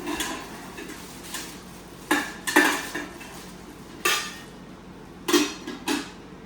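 A metal idli pot handled during unboxing gives off several sharp clinks and clanks, with bursts spaced irregularly across the clip, fairly close and moderately loud over a quiet background.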